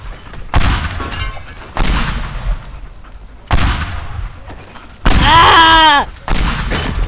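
Bomb explosions in a video game: five loud, heavy blasts spaced roughly a second apart, one overlapped by a brief high, wavering squeal.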